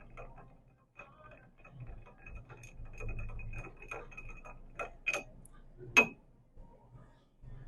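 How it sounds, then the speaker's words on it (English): An old fashioned cocktail is given a quick stir, soft clinks and ticks of ice against glass in a quiet, close setting, faint and irregular. "For this one, go ahead and give it a quick stir."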